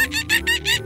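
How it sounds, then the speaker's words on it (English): A monkey calls in four quick, rhythmic, high-pitched hooting pulses, close and clear, with no other sound around it. "A monkey sounds like this."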